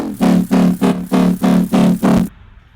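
A Serum bass synth, heavily processed and clipped, pulses in seven loud rhythmic bursts with a growling, buzzy mid-heavy tone before cutting off abruptly into near silence.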